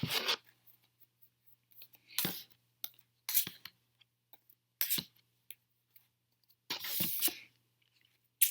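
A deck of tarot cards being cut and handled, giving a few short, crisp papery snaps and slides separated by quiet pauses, close and fairly soft.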